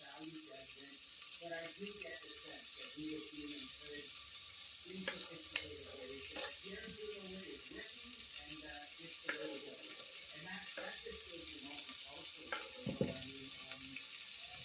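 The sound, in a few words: finely cut onions frying in a pan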